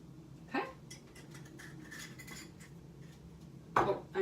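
Spoon scraping and clinking against a pan while lamb and mint sausage meatballs are stirred, a few sharp metallic knocks over a low background hum, close and moderately quiet.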